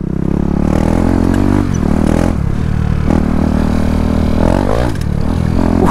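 Engine of a KTM Duke 390 motorcycle drones steadily and close while being ridden, a loud continuous roar with brief dips and shifts in pitch, over constant wind and road rumble.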